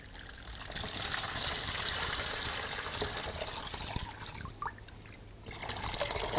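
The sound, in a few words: cold water poured into a bucket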